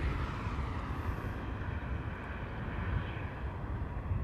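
A Boeing 777 departs runway 18L at Amsterdam Schiphol, its engines a steady, broad low roar that holds loud and unbroken throughout.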